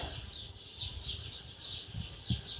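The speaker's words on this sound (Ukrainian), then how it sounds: "Зараз оце птиці співають, свірчки вже почали співати" Soft bird chirps repeat in short high phrases over a low, muffled rumble of background noise, with crickets also singing.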